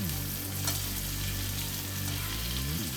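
A New York steak sizzles hard in a hot pan as it is basted in foaming fat, a steady, dense, close crackle that runs unbroken throughout with no talking.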